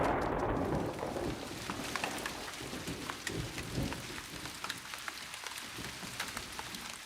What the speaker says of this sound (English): That night, we had a terrific thunderstorm.